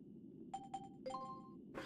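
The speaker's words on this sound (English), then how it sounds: "Wait, I do hear a doorbell." A doorbell chimes faintly in the background of a game session, a few quick dings followed by a longer two-tone ring, under a low room hum.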